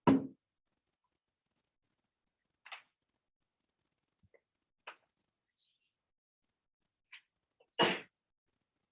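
Two sharp sneezes burst out in a quiet room, one right at the start and a louder one near the end, with a few soft knocks and clicks between them.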